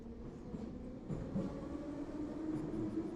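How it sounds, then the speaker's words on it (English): A subway train in the video game The Hungry Town rumbles steadily at low volume, a continuous rolling drone with faint rhythmic clatter and no speech. "The subway is the perfect way to get around the city quickly and discreetly."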